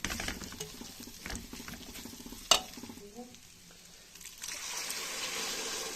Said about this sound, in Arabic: يلا بقى نقلب الحلويات